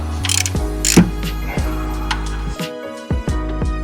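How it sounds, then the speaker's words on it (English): A wrench cracks loose the oil drain bolt on a Ford Focus ST, giving close, loud metallic ratcheting clicks and a sharp crack in uneven bursts, with no talking. "let's get this bolt cracked and drain our oil into our oil pan"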